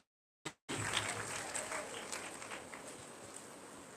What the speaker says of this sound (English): Put your hands again for Dr. Keza Eta